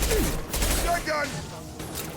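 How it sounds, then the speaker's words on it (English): Shotgun blasts fire in quick succession during a Mass Effect 2 firefight, loud and close, with voices calling out over the gunfire. "Shotgun!"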